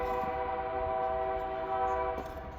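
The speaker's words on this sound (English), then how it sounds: "that train is quite a ways away. It's just the wind that's making it loud," A distant train horn carried by the wind in a residential yard, a steady droning multi-tone blast held for a few seconds, fairly faint, with a light wind rumble beneath.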